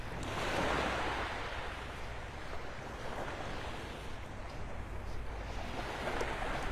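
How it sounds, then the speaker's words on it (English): Small ocean waves wash onto the beach at Delnor-Wiggins in North Naples, Florida, a soft continuous surf hiss with gentle swells and some wind rumble on the microphone. "Where are these little waves coming from?"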